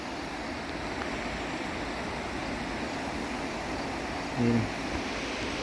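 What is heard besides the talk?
overflowing flooded river water rushing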